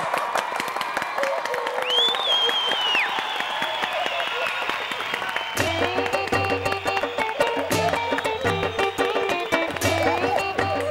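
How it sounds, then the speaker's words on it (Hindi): A studio audience bursts into loud applause and cheering, a dense wash of clapping with a few whoops, while voices carry over the top and music or effects come in partway through. "भाई एक बार जोरदार तालियां हो जाएं गोपीनाथ गंडोत्रा जी के लिए।"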